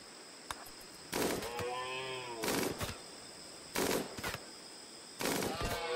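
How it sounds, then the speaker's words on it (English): Gunfire in the video game RimWorld as colonists shoot at an alpaca: four separate loud bursts spaced about a second apart, each with a ringing tail, over a steady game-sound background. "we're shooting the other alpaca."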